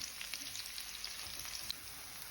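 Onion rings frying in a shallow layer of oil, a soft steady sizzle with faint crackles and pops, quiet and close, no voices.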